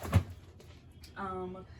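Drawers in an art studio slide open with a short knock followed by a hollow rolling glide, heard close up and by themselves.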